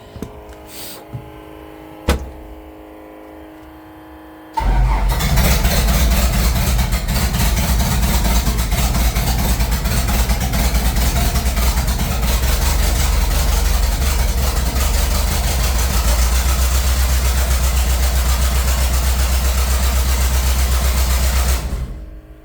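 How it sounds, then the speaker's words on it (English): A Hyster R80 forklift diesel engine with no exhaust manifold catches after a few clanks and runs loud and raw, a harsh unmuffled clatter holding steady at idle for nearly twenty seconds. "Nice and noisy because we've got no exhaust manifold yet."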